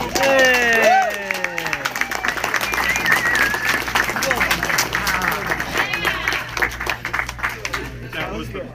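Convention panel audience at the furry event Fur Reality 2016 applauds, a dense wash of clapping and crowd noise running throughout, with voices and whoops mixed in over the steady applause.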